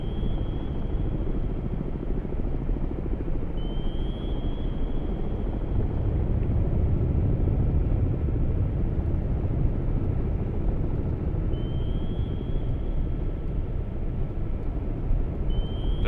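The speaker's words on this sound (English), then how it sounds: "That sounds like the sound of Russians learning, i.e. helicopters" Helicopters close in during the naval warfare game Cold Waters, heard as a steady low rotor rumble and drone that swells slightly midway, continuous and fairly faint, with no talking.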